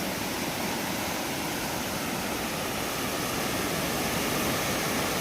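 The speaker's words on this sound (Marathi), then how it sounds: "पाणी एवढं नदीला आलंय." Floodwater of a swollen river in the Konkan rushing near the Kolamb bridge, a loud, continuous broadband roar of churning water filling the whole clip without pause.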